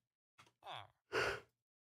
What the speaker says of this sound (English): Oh, pardon me, I'm yawning again.